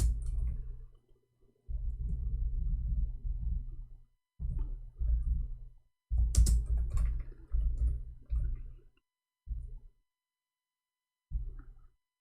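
Someone types on a new computer keyboard in bursts of rapid, close clicking separated by short pauses, with no talk.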